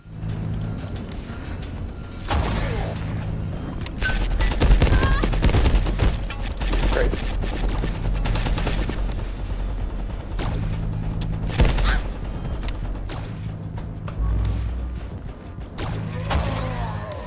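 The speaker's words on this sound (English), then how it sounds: "sitting around in one room, maybe ducking a Jotun or 2 blasting at me while my laser turret killed what came in" Laser turret fire and combat blasts in the video game Abiotic Factor, a dense stream of loud, rapid shots and impacts with periodic pulsing bursts throughout.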